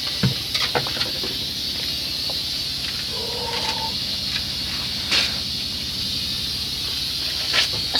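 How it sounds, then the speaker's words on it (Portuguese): A small campfire burns close by with a steady crackling hiss, scattered sharp pops and snaps breaking through a dense, constant rush of flame. "Nossa, fogueirinha."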